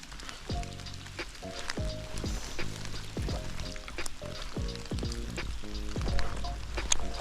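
Heavy rain falling outdoors, a steady dense patter of drops with scattered sharper splashes, continuous and fairly close with no talk.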